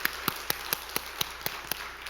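Slow, evenly spaced hand claps from a church congregation at a Friday worship service, about nine sharp claps in a steady rhythm, fairly faint and heard alone without talk.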